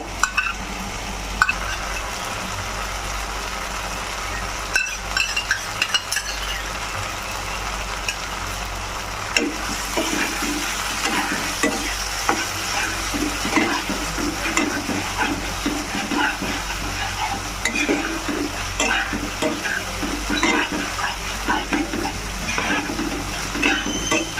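Whisked sour curd being stirred into a frying egg and paneer curry with cashew, a steady spoon scraping and stirring over a soft continuous sizzle in the pan, with a few clinks of utensils.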